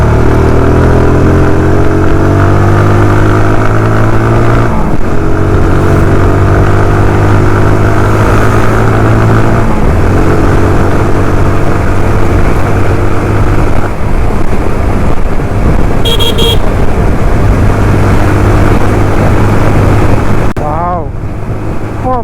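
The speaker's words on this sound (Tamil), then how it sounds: "இங்கே உங்களுக்கு ப்ராப்பராக வண்டியை ஓட்டி காட்டுறேன்" A TVS Apache RTR 160 2V motorcycle ridden along, its engine note rising and falling through gear changes under steady, loud wind buffeting, with a brief voice near the end.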